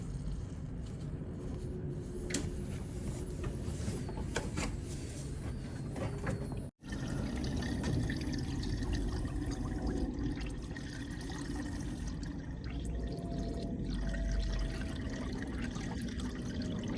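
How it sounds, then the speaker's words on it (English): Coolant water trickles and splashes steadily from the bleed nipple of a Vauxhall Corsa cooling system during bleeding after a heater matrix replacement, a continuous close wash of flow with faint mechanical clicks and no speech. "Now water coming, need to close this one."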